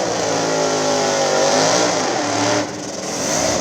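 A nitrous-fed SN95 Mustang small-tire drag car at Dig Days VII revs hard and continuously, its loud engine note holding steady before a brief dip near the end and then climbing back up.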